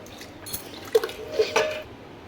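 Kadhi being stirred in a cooking pot on a medium gas flame, giving a few soft wet liquid clinks and scrapes close by, with no talk.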